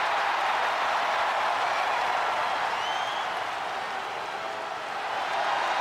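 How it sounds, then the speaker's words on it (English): A wrestling arena crowd in the WWE 2K25 video game cheers and applauds, a loud, continuous wall of crowd noise that dips slightly before swelling again. "They're cheering for Jimmy Uso."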